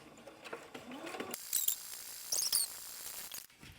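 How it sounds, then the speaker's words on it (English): A sewing machine stitches slowly around a paper journal page, making quiet mechanical clicks and whirring bursts in an uneven rhythm, close by and faint. "I'm going to slow the stitches way down and just kind of stitch around."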